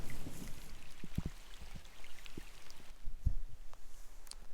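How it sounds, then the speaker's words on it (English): Light rain pattering on a camp tarp during a backcountry canoe trip, soft scattered drops tapping close by against a quiet steady hiss. "I can't believe it's raining"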